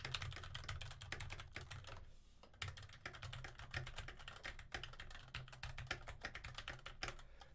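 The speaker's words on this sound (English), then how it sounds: "Keyboard test." Keys clatter on a computer keyboard in a fast, steady stream of light clicks, captured as a microphone test with no talking over it.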